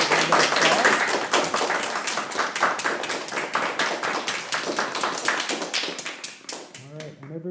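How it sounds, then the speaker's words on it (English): An audience claps after a music theory and composition lab performance: brisk, crisp, closely spaced handclaps that thin out and grow sparser toward the end, where a voice briefly speaks. "Let's give our performance a round of applause."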